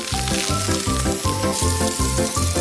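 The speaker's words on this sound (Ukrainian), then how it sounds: "і заморозимо з допомогою спрею" Continuous close hissing from a freezing spray can onto watermelon slices on a plate, like a sizzle, with music playing in the background throughout.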